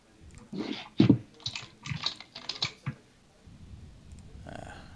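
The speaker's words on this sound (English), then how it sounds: "Is someone still using a keyboard or something?" Scattered clicky keyboard taps in an uneven rhythm, mixed with faint background voices and room noise.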